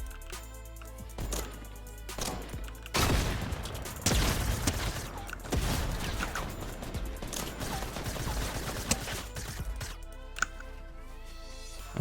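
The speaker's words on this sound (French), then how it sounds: "Ça tire là-bas." Gunfire in the video game Fortnite, a run of loud sharp shots and bursts in quick clusters, with game effects between them.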